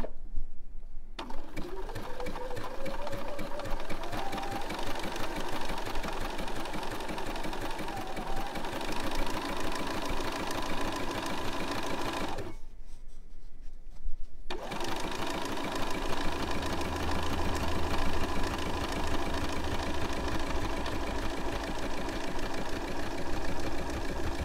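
A sewing machine stitching a zigzag on fabric runs in a steady fast mechanical whir, close and continuous, with one brief pause in the middle before it resumes.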